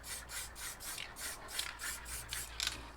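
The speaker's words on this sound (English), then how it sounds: "I'm just pressing this cap real lightly" A can of frozen raspberry pink spray paint gives a run of short, light hissing puffs in an even rhythm, close and soft, with no talking.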